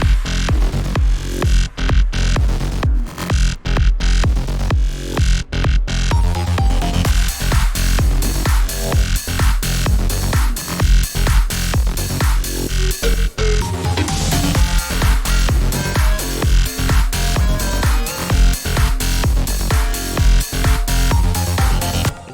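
Loud, dense electronic music drop made up of heavy punching bass shots and glitchy, corrupted-sounding effects, driving continuously at full level from start to finish with no voice over it.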